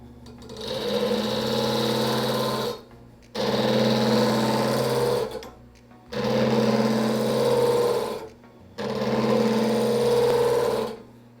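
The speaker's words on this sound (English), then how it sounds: "what I'm going to do just for this demonstration is further burnish it down" A metal-spinning lathe tool burnishes a wrinkled spun-metal piece, giving four steady, droning mechanical runs of about two to three seconds each, separated by brief silent pauses, loud and close with no talk.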